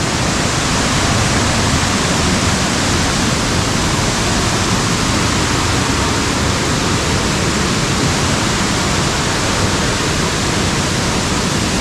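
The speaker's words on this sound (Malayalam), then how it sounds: "ഇങ്ങനെ ചുമ്മാ ഇങ്ങനെ വെള്ളം ഇങ്ങനെ പാറപ്പുറത്തോടെ ഒഴുകുന്നു" Water pours over rocks at Paathanpara waterfall in Kerala, a loud, dense, unbroken roar of rushing flow that fills the whole stretch without pause or voices.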